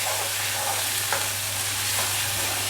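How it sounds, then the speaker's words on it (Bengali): Spice paste of onion, garlic and ginger sizzles steadily in hot oil, a dense continuous frying hiss with soft stirring scrapes, close and alone without talk. "এই জন্য একটু ভেজে নিলাম পেঁয়াজের সাথে। একটু গার্লিক পেস্ট দিলাম, একটু জিঞ্জার পেস্টও দিয়ে দিলাম।"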